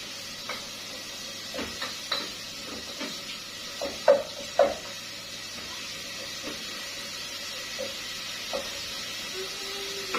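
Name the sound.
sardines (omena) deep frying in oil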